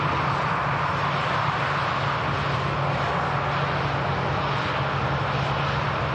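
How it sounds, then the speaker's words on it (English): A KLM airliner lining up on the runway at Manchester Airport, its jet engines giving a steady, loud, unbroken roar and hiss at some distance, no talk. "KLM about to line up."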